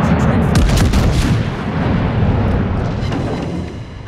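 Naval guns fire from a battleship in World of Warships, deep booming salvos that roll into a long rumbling wash, loud and heavy at first and then easing off slowly.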